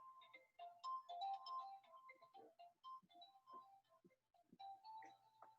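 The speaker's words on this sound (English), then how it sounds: "Marv, your phone is ringing." A phone rings with a melodic electronic ringtone, a run of short bright tonal notes that repeat in uneven bursts, fairly quiet and with no voices over it.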